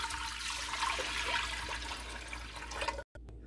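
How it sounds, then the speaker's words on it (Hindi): Water pours steadily into a pressure cooker holding yakhni ingredients, a continuous splashing stream that cuts off abruptly near the end, with no talk over it. "तो पानी ऐड कर लेते हैं।"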